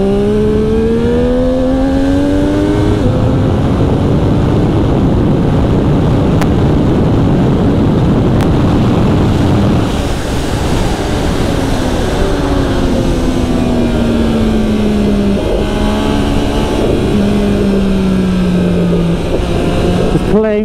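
A 2020 Triumph Street Triple RS motorcycle on a hot lap of the Cartagena track, its engine loud and continuous with rising and falling revs as the throttle is worked through corners, under steady wind roar.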